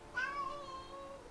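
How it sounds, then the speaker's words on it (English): A house cat gives a single drawn-out meow, clear and fairly close, rising then trailing off over about a second against quiet indoor background. "Yeah, that's my cat."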